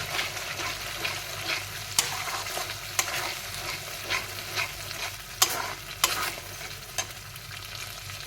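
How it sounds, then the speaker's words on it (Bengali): Nut and melon seed paste frying with spices in oil for a paneer dish, stirred steadily with a spoon scraping the pan at roughly one-second intervals over a continuous soft sizzle. "এবার বেটে রাখা বাদাম আর চালমগজের পেস্টটা দিয়ে দেব। দিয়ে ভালো করে কষিয়ে নেব।"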